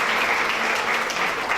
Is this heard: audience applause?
yes